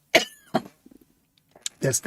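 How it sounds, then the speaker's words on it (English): A few short, sharp coughs close to the microphone, separated by brief pauses, with quiet breathy sounds in between. "Now I've started to cough."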